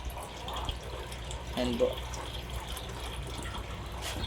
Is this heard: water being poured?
yes